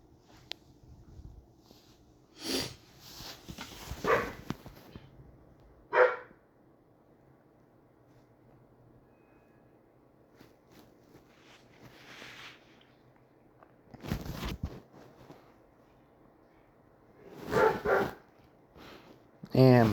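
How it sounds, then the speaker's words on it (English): A pet dog barks in short, loud bursts from nearby, with quieter gaps in between and a few yips, while a person talks over the sound. "my dog is barking his head off"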